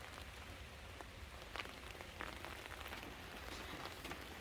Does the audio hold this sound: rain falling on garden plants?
yes